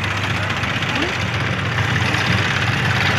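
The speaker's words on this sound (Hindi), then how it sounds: "ये आ गयो ट्रैक्टर देखो ट्रैक्टर" Tractor engine running steadily near a mustard field, a continuous low rumble throughout with a voice talking over it.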